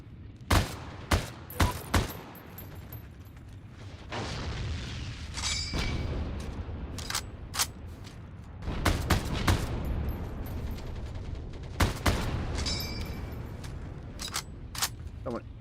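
Bursts of machine gun fire in the World War II shooter Heroes & Generals, several sharp volleys and scattered single shots across a noisy battlefield, with people talking in between.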